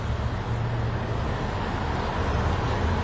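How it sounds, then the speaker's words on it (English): Steady road traffic rumbles as a broad, even wash of low noise. It is continuous and moderately loud with no distinct passing vehicles standing out. "Sorry for the background noise, it's traffic on the road."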